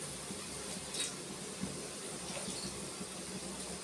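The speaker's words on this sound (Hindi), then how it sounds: "और अभी पानी डालेंगे" Continuous rushing water with a soft splashing texture, fairly close, running steadily without pause.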